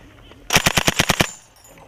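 Machine gun fire during a military exercise: one loud, close burst of about eight rapid, evenly spaced shots lasting under a second, with quiet field ambience before and after.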